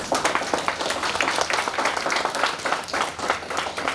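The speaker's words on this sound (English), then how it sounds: "Huge round of applause for Dr. Parkinson." A dense, steady round of audience applause fills a fiction writing workshop for young writers at a 2019 literature festival, with many hands clapping continuously and close by for the full stretch.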